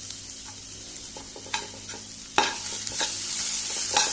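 Mushrooms roasting with tomato and pepper in a pan with little or no oil for a Goan mushroom tonak, giving a soft steady sizzle broken by a few sharp stirring scrapes and clinks, close and moderately quiet with no talk.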